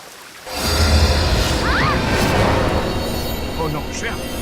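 A loud, constant rushing roar of falling water begins abruptly and continues steadily, with faint voices calling over it.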